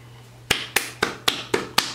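Six sharp, evenly spaced claps ring out about a quarter second apart, close and crisp over a quiet background hum.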